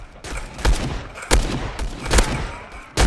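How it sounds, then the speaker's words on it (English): Gunfire in the Roblox game Bandit Simulator, with sharp, loud shots arriving in irregular bursts about every half second to second over a busy background. "Yo, who is shooting me?"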